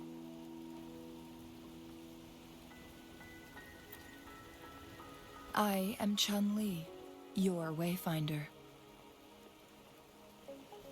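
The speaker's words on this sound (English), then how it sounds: "Don't worry, the rain won't last much longer." Steady rain falls across a scene in the video game Wuthering Waves, a soft continuous patter under a gentle background tone, with someone speaking briefly partway through.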